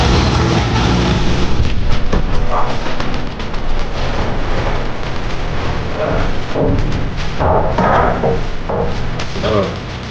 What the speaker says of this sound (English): While I was knocking out the countertops.